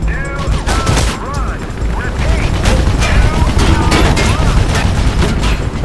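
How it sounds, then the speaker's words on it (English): Rapid bursts of gunfire aimed at the player in the video game Mirror's Edge, loud and dense with overlapping shots and mechanical clatter over several seconds. "You're already shooting at me?"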